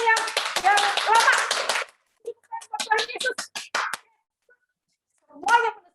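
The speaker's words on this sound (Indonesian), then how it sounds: "boleh tepuk tangan yang lama" Children in a Sunday school Zoom session clap, heard as a loud burst of rapid claps, then scattered individual claps after a pause and a final short flurry, with gaps of silence between.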